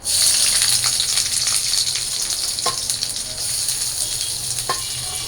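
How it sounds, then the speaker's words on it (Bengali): Chopped onion and green chili hit hot oil in a wok and sizzle loudly, a bright continuous hiss easing slightly over time, with a couple of faint clinks of stirring and no voices. "এবার পেঁয়াজ আর কাঁচামরিচ কুচি দিয়ে দিই।"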